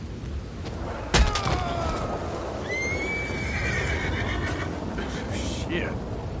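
A horse whinnies in an Old West video game, a rising then falling call at moderate distance over steady ambient noise, after a sharp thump near the start.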